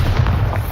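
A Bombarda spell explosion in the video game Hogwarts Legacy, a loud, dense booming blast that sustains low rumble throughout, up close with no speech.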